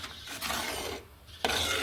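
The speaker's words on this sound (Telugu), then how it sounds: "చూడండి పాలు పోసిన తర్వాత ఇలా కలుపుతూ ఉండాలి" A spoon scrapes and swirls steadily around a pan of milk and semolina for rava kesari, a continuous rasping stir with a brief lull before it picks up again.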